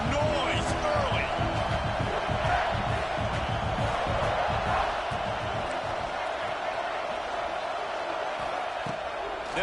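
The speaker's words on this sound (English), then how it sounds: "This crowd bringing the energy and noise early." Football stadium crowd at a Georgia vs Florida game roaring steadily and loudly throughout, a dense wall of cheering and noise with a commentator talking over it.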